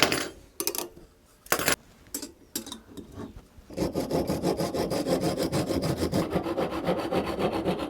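Excess dried bits being trimmed off a handmade wallet and key holder, first as a few separate scraping strokes, then as steady rapid rasping that runs on continuously, close up with no talk.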